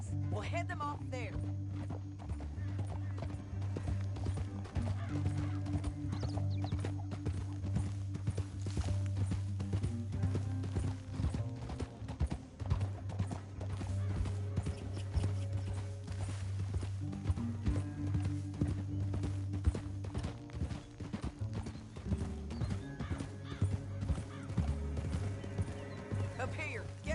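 Several horses trot with continuous, rhythmic clip-clopping hooves close by on a canyon trail, under sustained background music and occasional voices.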